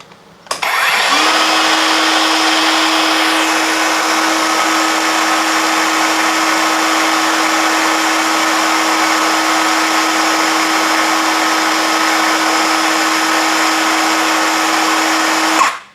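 A cordless brushless Dongcheng DCM circular saw spins up and runs unloaded at a steady high pitch for about fifteen seconds, loud, close and even, with a constant whine and smooth motor hum.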